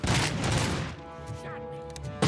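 Gunfire in RoboCop: Rogue City opens as a loud, dense burst of shots for about a second, then gives way to a quieter tonal music bed, with a final sharp blast at the very end.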